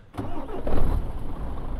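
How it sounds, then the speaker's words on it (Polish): A truck engine in Euro Truck Simulator 2 cranks and catches, then settles into a loud, steady rumbling idle with nothing else over it. "Odpalam mój samochód."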